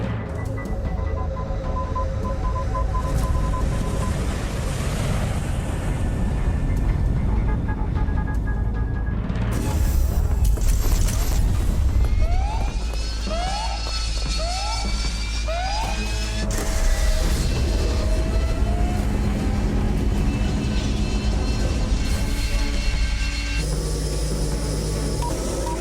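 Angel interceptor aircraft launch in an audio drama, with a dense mechanical roar, rising whines and a series of four short repeated beeping tones before a sustained engine blast, loud and continuous.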